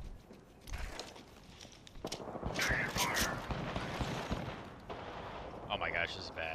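Shots ring out in a battle royale game as scattered, fairly quiet gunfire cracks among mechanical game noises, with a voice speaking now and then.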